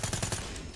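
Rapid automatic gunfire in the shooter game Call of Duty: Black Ops 3, a quick burst of four or five sharp, close shots at an even rhythm, followed by a short fading tail.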